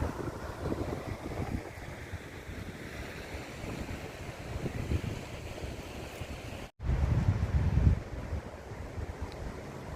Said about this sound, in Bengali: নোয়ানা ওয়াটারফলস